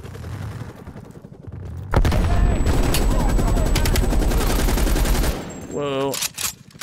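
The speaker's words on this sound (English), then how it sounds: "Who's shooting from where? I don't see the bullets." Video game gunfire in Call of Duty Black Ops Cold War, a dense, loud burst of rapid automatic fire lasting a few seconds, with a voice speaking near the end.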